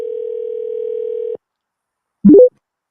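A telephone line carries a steady dial tone for over a second, then cuts to silence before a short rising electronic chirp as the caller is connected.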